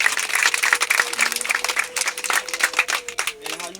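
Audience applause at a Rwandan family gathering celebrating a grandfather's gift of a cow to a grandchild, dense clapping that stays loud and uneven, with voices mixed in and a brief cheer near the end.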